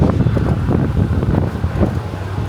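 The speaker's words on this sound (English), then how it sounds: "Windy." Strong wind buffets the microphone in a steady low roar with gusty fluctuations.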